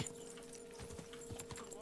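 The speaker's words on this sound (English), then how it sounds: "Whoa, whoa! Easy, horsey." Horse hooves clip-clopping at a steady gallop in Kingdom Come: Deliverance 2, a rapid rhythmic beat of hoofbeats over a constant game hum, with a brief whinny-like trace.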